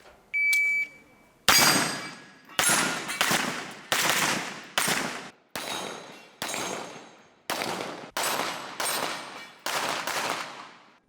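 Gunshots at a practical shooting competition, fired from pistols and pistol-caliber carbines. Sharp, loud reports come in about a dozen separate bursts over several seconds, some as quick doubles, each with a short echoing tail, and a brief beep sounds at the start.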